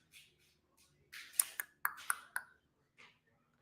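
A run of short, bright notification pings, several clustered tones in quick succession followed by one softer ping after a pause, clear and close with no talk over them.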